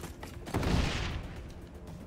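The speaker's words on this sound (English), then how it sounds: "Throwing frag." Frag grenade blast in the XDefiant beta, a single loud, dense explosion thumping up about halfway through and rumbling on for over a second amid continuous game noise.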